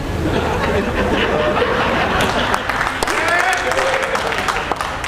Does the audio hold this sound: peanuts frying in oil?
no